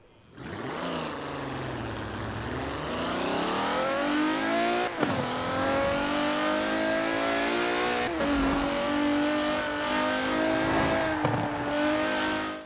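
A Mercedes-Benz CLK GTR racing engine in a Forza video game revs hard and steadily, its pitch climbing and dropping back with each gear change, loud and continuous throughout.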